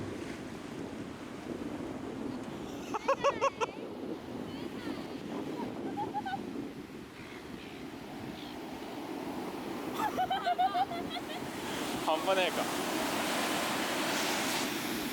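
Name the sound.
waves and wind at Bondi Beach, Sydney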